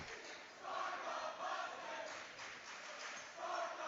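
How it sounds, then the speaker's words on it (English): Glacier Peak's student section cheers at a boys basketball home game against Lake Stevens, a fairly faint, sustained crowd roar that rises and falls in a few swells. "Glacier Peak's crowd getting into it"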